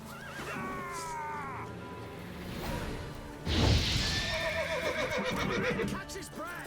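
Geralt's horse whinnies repeatedly in the open-world game The Witcher 3: Wild Hunt, with hoof clip-clops and a loud crash midway, all close and clear amid game combat.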